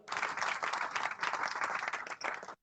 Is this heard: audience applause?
yes